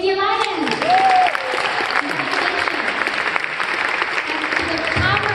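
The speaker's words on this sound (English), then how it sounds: "let's give a big round of applause for the New York City E-Vehicle Safety Alliance" Applause from the audience at a town hall on e-bike licensing and registration, a sustained crowd clapping with brief voices and other noises mixed in, fairly loud throughout.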